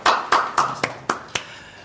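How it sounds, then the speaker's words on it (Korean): A church congregation claps in unison during a Sunday worship service, giving six sharp, evenly spaced beats that fade slightly toward the end. "앞에 감사의 박수 드리겠습니다."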